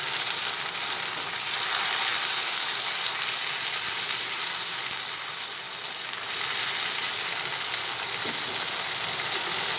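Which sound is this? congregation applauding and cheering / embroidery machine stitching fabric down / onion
onion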